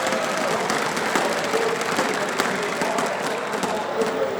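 Crowd at the ESL One Katowice 2014 CS:GO semi-final in an esports arena applauds and cheers continuously, a dense, loud wash of clapping and shouting that holds steady throughout.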